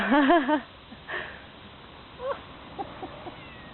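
A cat gives a clear wavering meow at the start, followed by a few faint short mews and soft sounds in a quiet indoor setting.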